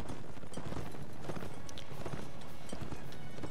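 Horse hooves in Mount & Blade Warband clatter continuously under a rider moving across open countryside, a busy, rough-textured trotting rhythm heard at moderate distance with no talk.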